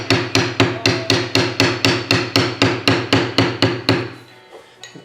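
Mallet blows on a beveling tool pressed into leather during basic tooling, about fourteen steady, evenly spaced sharp knocks, loud and close, stopping near the end with faint handling sounds.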